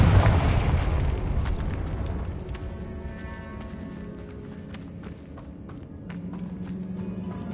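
A Confringo blasting spell explodes in Hogwarts Legacy: one loud, close boom at the start that rumbles and fades over several seconds, followed by scattered footsteps and small clicks.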